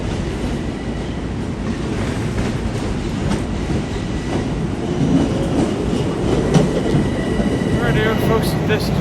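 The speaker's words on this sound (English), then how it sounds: "Folks, this is our train and we're going to get on board now." A New York subway train rolls into a station platform with a loud, steady rumble and rhythmic clickety-clack of wheels, brakes squealing faintly near the end as it slows.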